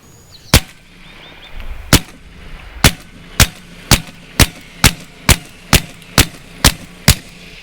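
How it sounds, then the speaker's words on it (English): An AEA Terminator .30 cal semi-auto PCP air rifle fires thirteen sharp, loud cracks. Its air tank bottle rattles on a table with each shot, the first few spaced apart and the rest in a quick, even rhythm. "That is the ugliest noise from this bottle rattling around on this table."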